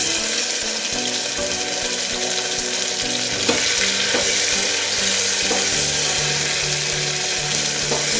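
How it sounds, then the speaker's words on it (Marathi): Tomatoes frying in hot oil for a mixed vegetable drumstick sambar make a steady, loud crackling sizzle that runs throughout, with a few light clicks from stirring and no speech. "टोमॅटो टाकून घेते."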